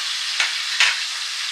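Tomatoes fry in a hot pan for a bottle gourd curry, a steady close sizzle and hiss with two brief louder flares as they are stirred, no voices.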